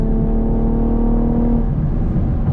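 A 2021 Chevy Camaro RS Redline Edition, dropped down a gear and on throttle, accelerates with a loud, steady engine drone that climbs smoothly, heard from inside the car with no talking.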